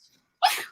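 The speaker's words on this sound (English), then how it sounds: "That was Lucy huffing at me." A dog gives a single short, breathy huff that sounds much like a sneeze, a brief close burst of air after a moment of near silence.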